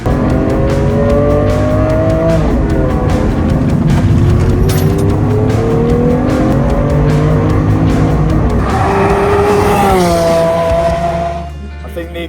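Lamborghini Aventador SV lapping the Imola circuit, its engine loud and close, revs climbing and dropping through gear changes with brief tyre squeal, continuous throughout.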